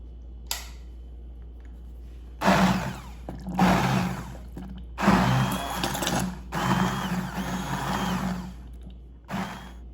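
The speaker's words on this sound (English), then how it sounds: "use a handheld blender and just blend all of this until smooth" An electric hand blender whirs in several bursts through tomato sauce, starting and stopping with a grinding, churning buzz over a steady low hum.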